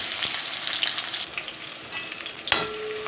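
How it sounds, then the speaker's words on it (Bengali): Onion frying in oil over a low gas flame after bitter gourd was fried, a continuous close sizzle with stirring scrapes and a sharp clink near the end. "পেঁয়াজটাকে আবার ভেজে নেব"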